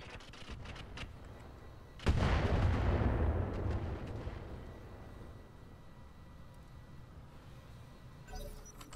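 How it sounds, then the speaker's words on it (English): A weapon fires in the Roguetech mech game, a single heavy booming blast followed by a long rumbling decay that fades over several seconds, with a smaller burst near the end. "Firing."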